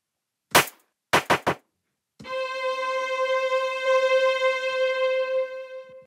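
Four sharp percussive taps on samples, the last three in quick succession, then a bright sustained tone that rings on for several seconds, echoing through a rhythmic delay effect mixed about half dry before fading.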